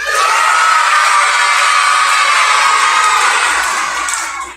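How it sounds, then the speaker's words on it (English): Students at a summer school graduation give a loud, sustained cheer, a dense crowd of young voices shouting and whooping together for over four seconds before fading slightly at the end. "I want you to give the biggest cheer on the count of 3"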